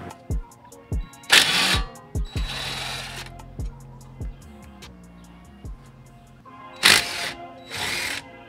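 A ratchet on a Subaru WRX STI clicks in short runs while the stock brake calipers and pads come off, with sharp metallic taps and a few louder whirring bursts, close up and without talk.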